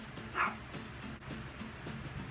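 A dog gives a few short yips and barks in a quiet indoor room, close and moderately loud, spaced over about two seconds.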